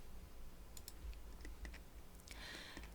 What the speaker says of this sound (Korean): 키보드로 딜리트 버튼 누르면 되겠습니다